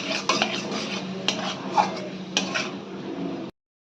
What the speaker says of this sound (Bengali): দিয়ে ভালো করে এবার আমরা এই মশলাটাকে কষিয়ে নেব